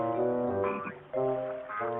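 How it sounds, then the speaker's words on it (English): A frog croaks in repeated throaty, pulsing calls with short gaps between them, close and clear with no other sounds. "Frog was hopping."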